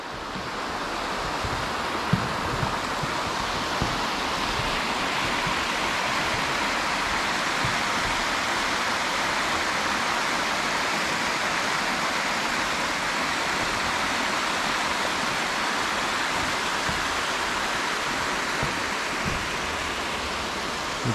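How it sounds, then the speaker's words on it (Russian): Steady, loud rushing water, like a nearby stream or small waterfall, at the Chernorechenskoe reservoir in Crimea on a windless, snowy day, running without pause throughout and with no voices. "И только шум воды."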